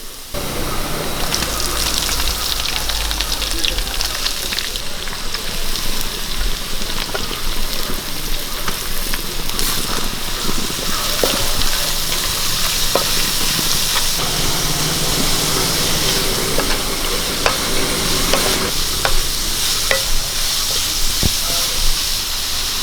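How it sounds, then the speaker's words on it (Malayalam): Four sliced onions frying in a pan for a chicken curry, a loud steady hiss and sizzle running throughout without a break. "ഒരു നാല് സവോള അരിഞ്ഞെടുത്തിട്ടുണ്ട് അത് നമുക്കിതിലേക്ക് ഇട്ട് കൊടുക്കാം"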